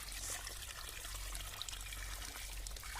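Water from a bucket poured out during household cleaning, a steady faint splashing trickle running for a few seconds with no talk over it.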